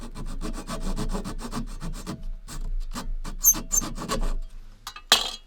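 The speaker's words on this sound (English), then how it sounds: "I'll be using the little fine saw to cut the dovetail" A fine saw cutting a small wooden dovetail joint for miniature dollhouse furniture, rapid rhythmic rasping strokes close up, a short pause, then more strokes and a sharp clink at the end.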